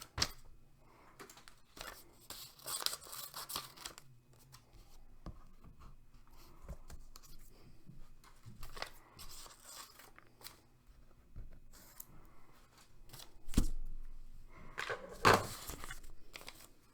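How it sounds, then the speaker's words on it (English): Paper little bug shapes being cut out with scissors, soft snipping and rustling bursts spread across the stretch with some louder crinkly handling near the end, close and fairly quiet, no talking. "I'm cutting out little bugs."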